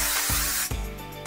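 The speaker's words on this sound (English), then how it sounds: "I'm going to take my favorite finishing hairspray, Kenra number 25, and I'm going to spray the entire section" Kenra No. 25 finishing hairspray sprayed onto a section of hair in two close, loud hissing bursts, the first long and steady, the second shorter after a brief pause.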